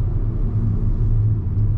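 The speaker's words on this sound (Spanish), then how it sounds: "ahí le aceleramos un poquito, le exiges al motor" A 2024 Kia K3 hatchback engine pulling under acceleration, a steady deep rumble heard from inside the car, loud and continuous with no speech.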